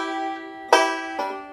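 A banjo plays a short phrase that starts with a pull-off: a sustained ringing tone, then a bright plucked attack and a softer second pluck, each decaying, close and clear.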